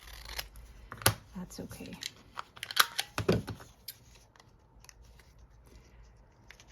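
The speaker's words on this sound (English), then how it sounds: "I'm gonna have to cut a little of that stamp" Scissors snip at a paper stamp in a few quick, close cuts amid rustling paper, with a voice speaking briefly.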